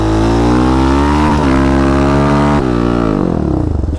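A quad ATV engine revs hard and close while powersliding, its loud buzzing tone holding steady and then dropping and wavering as the throttle eases near the end.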